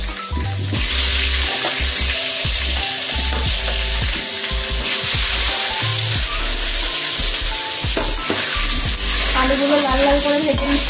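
Potatoes go into hot oil in a pan for a chicken curry and fry with a loud, steady sizzle, punctuated by repeated scraping stirs and clunks of a utensil against the pan.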